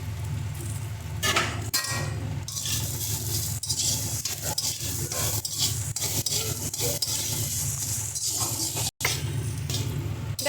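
Coconut stuffing for stuffed pointed gourd being mixed with chopped coriander, a steady close rubbing and stirring sound with light clinks of a utensil against a bowl, continuous and fairly quiet throughout.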